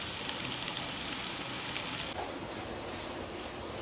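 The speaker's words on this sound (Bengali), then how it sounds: "এবার হচ্ছে পেঁয়াজ, পেঁয়াজটাকে আমাকে বেরেস্তা বানাতে হবে" Chopped onions fry in a pan for Bangladeshi beresta, giving a steady, even sizzle that stays close and continuous for the whole stretch, with no talking.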